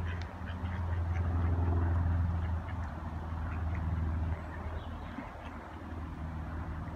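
Ducks quacking close by, one loud run of harsh quacks at the start followed by softer, scattered calls, with no talk.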